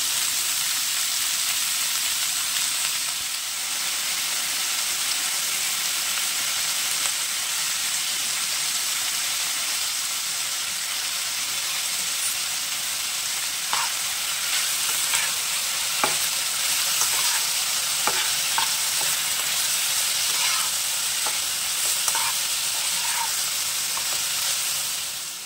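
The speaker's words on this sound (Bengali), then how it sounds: "এর মধ্যে দিয়ে অল্প একটু লবণ আর হলুদ দিয়ে একটু নাড়াচাড়া করে ভালো করে ভেজে নেব" Bottle gourd peels with a little salt and turmeric fry in mustard oil, a steady dense sizzle with occasional scraping stirs and crackles running throughout, no voices.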